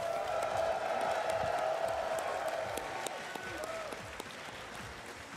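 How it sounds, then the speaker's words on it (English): Large audience applause at TennoCon 2024 gaming convention, sustained loud clapping with scattered cheers and whoops from the crowd, some voices underneath. "So round of applause again for all of you for making this happen."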